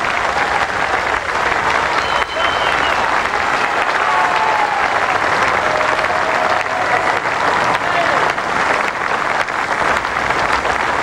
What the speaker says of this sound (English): His teammates stand and applaud.